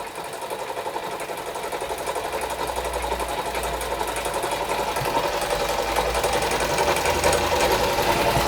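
A Doll & Co No. 56 1/2 model steam engine runs close by with its burner turned low. The piston and con rod give a fast, even mechanical chatter over a low hum, and it grows slightly louder without pause and with no talk.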